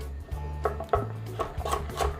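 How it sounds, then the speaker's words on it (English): Washed vegetables being sliced thin with a knife, a quick run of soft cutting taps and scrapes on a board at close range, with a low hum underneath. "I'm gonna cut them pretty thin because it's just faster to cook that way"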